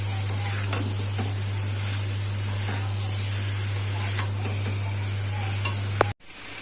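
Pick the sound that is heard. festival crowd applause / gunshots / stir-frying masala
stir-frying masala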